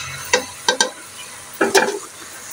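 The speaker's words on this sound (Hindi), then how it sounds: "गोश्त को भून लेना थोड़ा सा।" Mutton pieces frying with softened onions in a pan, a faint sizzle under a handful of scraping stirs that come in short clustered bursts, close by with no talk.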